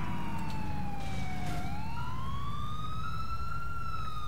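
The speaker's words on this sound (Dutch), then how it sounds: "Pak je ambulance, Steve." Wailing emergency siren in the video game GTA IV, a steady tone dipping then rising again with a faint higher harmonic, heard alone at moderate distance over low background rumble.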